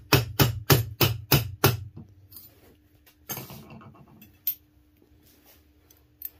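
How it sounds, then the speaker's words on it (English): A metal spoon ring being hammered up a mandrel: six sharp, ringing strikes in quick regular succession open the sequence. Quieter scattered taps and handling knocks follow, close to the listener, with no talk. "Sometimes if it's still super soft, you can just hit it a few times and walk it up your mandrel."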